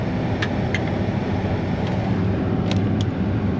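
An old combine harvester drives over corn with its engine running in a steady low rumble, joined by a few brief clanks and knocks.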